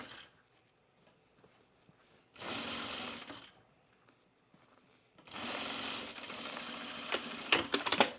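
A sewing machine stitches across a fabric tool case in two bursts, a short whirring run and then a longer one ending in a few clicks, near and fairly loud amid quiet handling noise.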